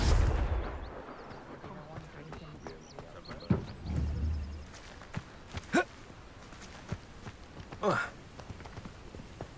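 Confringo blasting spell explosions from the Hogwarts Legacy video game: several sharp bursts scattered across the clip, close and punchy, with game speech and footsteps in between.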